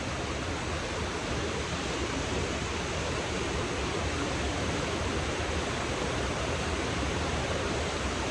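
A river runs steadily in the morning, a dense continuous rush of flowing water with no breaks, no pauses and no voices.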